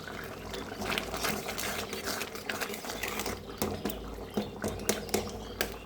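Chutney sweetened with jaggery bubbling in a pot on the stove: a steady stream of close, irregular pops and thick blurps continuing throughout.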